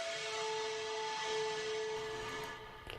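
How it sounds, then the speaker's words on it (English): An ambient hit sample from a Cashmere pack, a sustained airy wash of hissing noise with steady held tones that swells and then fades, played alone without any talking. "I just have this ambient hit that was also from a Cashmere pack"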